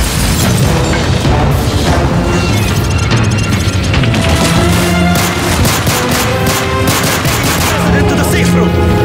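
Call of Duty Modern Warfare 3 mission gunfire as the president's security team comes under attack: loud, dense, continuous bursts of automatic weapons and booming shots layered over one another without a pause.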